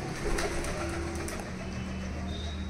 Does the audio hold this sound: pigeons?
yes